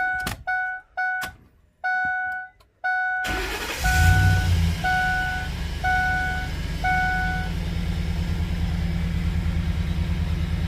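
Several electronic chimes from an S-15 pickup truck sound before its engine cranks and fires, then settles into a steady rumbling idle while the chimes keep repeating at intervals.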